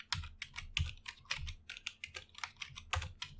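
Rapid, steady clacking of a computer keyboard, many distinct keystrokes in an uneven rhythm, close-miked and alone without any voices.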